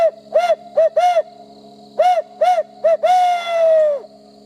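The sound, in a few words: hoot owl call mimicking an owl for turkey hunting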